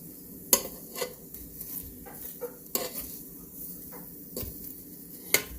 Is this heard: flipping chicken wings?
yes